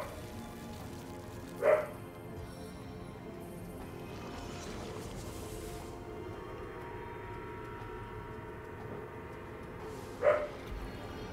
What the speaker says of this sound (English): the dog starts barking